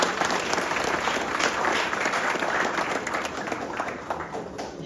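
A crowd applauds for a senator at an airport welcome, dense sustained clapping from many hands that continues throughout and slowly tapers toward the end.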